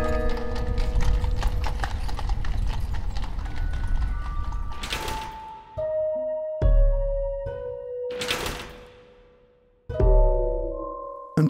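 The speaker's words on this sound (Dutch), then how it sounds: "Een koerierster op een paard." A horse carrying a courier clip-clops along in loud, close, steady hoofbeats. Sharper mechanical clanks and ringing strikes break in during the second half. No one speaks.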